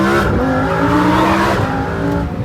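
A 2020 Lamborghini Huracan Evo with a 5.2-liter V10 pulls hard, its loud, dense engine note holding steady and close throughout with a busy rumble beneath.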